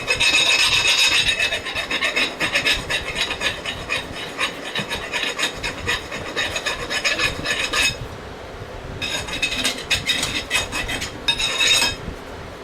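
A hand file rasps back and forth across the end of a VW Beetle axle to take off burrs for a go kart, with loud, steady scraping strokes, a brief pause, then more filing.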